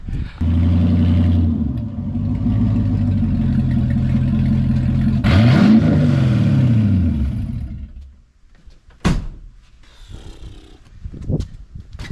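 A 1955 Chevrolet Nomad with vintage air conditioning runs up close, its engine a steady low rumble that rises in a rev midway, then fades to quieter driving with a few clicks and knocks.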